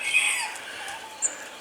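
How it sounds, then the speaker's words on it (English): Meat chickens cluck and murmur softly in the background, with one brief sharper call standing out near the end. "These are the meat chickens that Jennifer brought me over"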